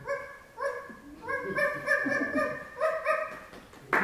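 A voice imitates a week-old puppy, with a run of high, thin whimpering yelps and whines in close succession, then a short sharp sound at the end.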